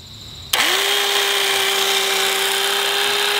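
An old single-speed corded Rockwell jigsaw starts after a quiet moment, spinning up with a sharp click into a loud, steady high motor whine and buzzing blade chatter up close.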